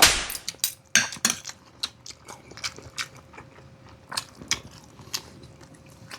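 Spicy Hungarian sausage being bitten and chewed up close, a series of sharp crisp bites followed by steady wet chewing clicks, with no voices.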